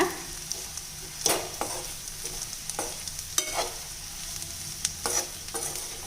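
Fried bitter gourd is tossed and stirred in a pan with a sprinkle of salt, giving a low sizzle with repeated scraping and clattering strokes at an uneven rhythm, close up and with no talking.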